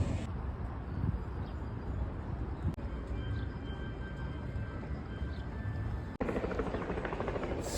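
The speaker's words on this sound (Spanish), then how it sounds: "Puedo oír el sonido del helicóptero" Helicopter beside an airfield runway, a steady rotor thrum and engine whine at moderate distance running continuously, with a couple of brief clicks along the way.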